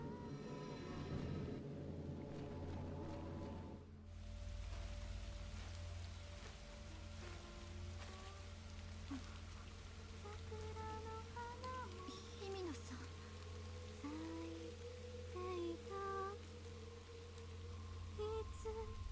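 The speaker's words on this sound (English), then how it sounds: "I mean, it's raining, so obviously I'm getting wet" Steady rain falls in Fatal Frame: Maiden of Black Water, a constant hiss of drops on surfaces with a low rumble beneath, while faint chirps and a short burst of louder noise rise through it.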